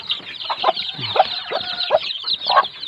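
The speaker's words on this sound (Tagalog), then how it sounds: "Tapos meron dito mga sisiw, oh." A mother hen and her chicks close by, the hen giving repeated soft clucks in an uneven rhythm while the chicks peep faintly underneath; no voices.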